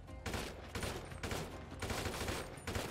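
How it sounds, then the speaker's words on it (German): Test gunfire in GTA 5 roleplay: rapid, repeated automatic shots in a steady rhythm of short bursts, fairly close and continuous throughout. "Ich mach mal kurz Schusstest."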